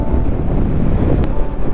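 Cold morning wind in North Karnataka buffets the microphone with a loud, continuous low rumble and roar, steady and unbroken, with one brief click near the end and no talking.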